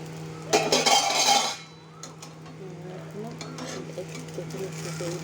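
A spoon spreads food around a hot pan in a short, loud scraping and stirring burst over a sizzle, then the pan is covered and a quieter, steady cooking hiss continues.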